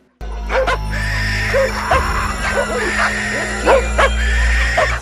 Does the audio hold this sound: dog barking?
yes